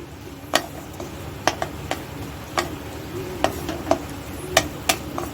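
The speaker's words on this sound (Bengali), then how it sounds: "তার মধ্যে এবারে পেঁয়াজ কুচি ছেড়ে দিলাম, একটা আস্ত গোটা পেঁয়াজ কুচি।" A whole chopped onion fries in hot oil, with a steady sizzle broken by sharp, irregular crackles and pops close by, and no voices.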